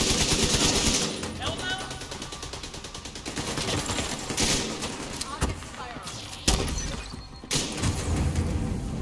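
Bursts of automatic rifle fire and shots during a fight in The Division 2, loud and rapid with short pauses, over players shouting to each other.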